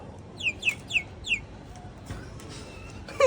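Chickens at a temple fair give four quick, sharp clucks in a row near the start, then fall quiet against faint background noise, with a brief louder sound at the very end.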